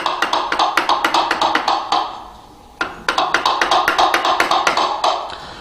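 Mortise chisel struck repeatedly to cut out the centre of a wooden bridle joint, a close, steady run of sharp mallet taps with a brief pause before the rhythmic tapping resumes.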